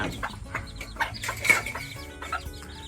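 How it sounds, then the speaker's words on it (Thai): Bantam chickens cluck in short, scattered bursts over a steady low background hum on a rainy morning at a farm, with several birds calling close by and one louder call near the middle. "ไก่แจ่"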